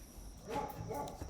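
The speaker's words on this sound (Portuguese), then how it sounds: "Uma barulheira de cachorro aqui em volta." Nearby dogs bark in a short burst, a couple of quick barks heard fairly close amid background noise.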